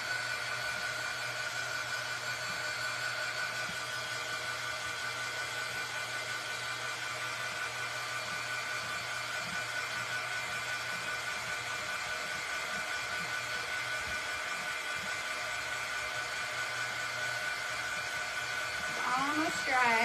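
A hair dryer blows steadily on fresh paint, a continuous whirring rush held at an even level throughout.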